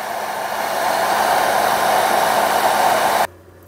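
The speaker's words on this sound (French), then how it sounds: "on a le sèche-cheveux qui fait 2000" A 2000-watt hair dryer blows steadily on its hot setting at low speed, a loud continuous broadband whoosh that cuts off abruptly near the end, leaving a faint low hum.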